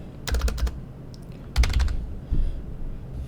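A computer keyboard is typed on in two quick bursts of crisp clicking keystrokes, close and clear, followed by a single heavier key press, with quiet gaps between.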